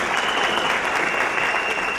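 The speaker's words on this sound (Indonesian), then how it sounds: "Tepuk tangan untuk Bapak Edi." Audience at a company gathering in Surabaya claps for a case manager, a brief, even wash of applause that holds steady without voices rising above it.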